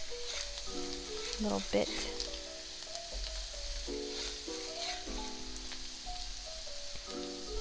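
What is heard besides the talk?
onions sizzling in pan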